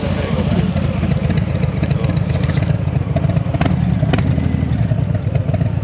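A customized 2022 Harley-Davidson Softail motorcycle rides slowly, its engine giving a steady, loud low rumble throughout with faint clatter on top and no clear revving surges.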